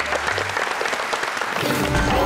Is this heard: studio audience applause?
yes